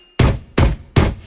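Three heavy foot stomps on a floor, evenly spaced and loud, thump in time with a bouncy children's action song, each a deep booming impact.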